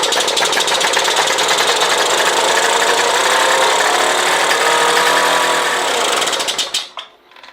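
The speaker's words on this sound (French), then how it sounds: "On va regarder s'il démarre correctement." A Solex moped engine, started by its roller on the wheel after months sitting unused, runs at a loud, rapid rattling buzz for about seven seconds before abruptly dying away.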